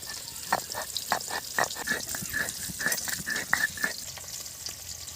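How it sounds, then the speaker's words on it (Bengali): Pieces of shol (snakehead) fish fry in hot oil in a pan for a kalia curry, a continuous bright sizzle with rapid spattering pops and a few scraping stirs. "মাছ ভাজা হয়ে যাচ্ছে মাছ ভাজা তুলে নেব"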